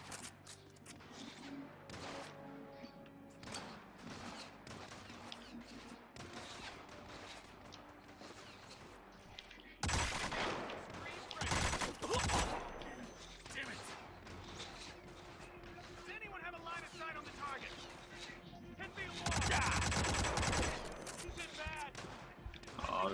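Gunfire in the Hitman video game on PS4, with bursts of sharp shots and loud crashing volleys, heaviest near the middle and end, over game background sound.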